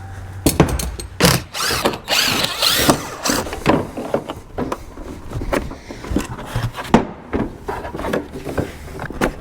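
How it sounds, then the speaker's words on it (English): A Snap-on ratchet strap is worked in quick bursts of clicking and ratcheting, close up, with irregular metallic clatter and short pauses in a garage during repair work on a Land Rover LR4. "A snap-on ratchet strap."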